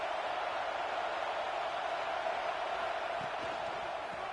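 Football stadium crowd roaring steadily in a broad, distant wash of cheering and noise, continuous and unbroken with no distinct voices standing out.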